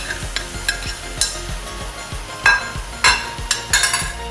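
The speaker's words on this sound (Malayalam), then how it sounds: "ഇനി അതിനകത്തേക്ക് നമുക്ക് നമ്മുടെ അരിഞ്ഞു വെച്ചിരിക്കുന്ന പഴങ്ങൾ ഇട്ട് കൊടുക്കാം" Chopped bananas sizzling in hot ghee for a sweet snack, with a steady frying hiss broken by sharp metallic clinks and scrapes of a spoon against the pan, several louder knocks clustered near the end.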